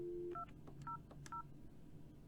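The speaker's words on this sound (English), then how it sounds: "and then you can dial an extension" Office desk telephone keypad tapped to dial an extension: three short, fairly quiet dual-tone beeps, evenly spaced, after a brief dial tone.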